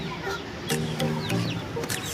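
A pair of small hens clucks in short, close bursts, several sharp calls scattered over a background hum in an animal shed.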